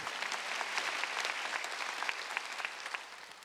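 A congregation claps together during a Korean church worship service, a dense, even patter of hands heard at a moderate distance without talk.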